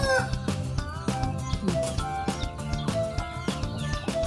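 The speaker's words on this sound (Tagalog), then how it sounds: "Tanaw ang mga manok na yun." Several chickens cluck repeatedly in a busy, overlapping chorus close by, with sharp rhythmic calls and an occasional higher squawk.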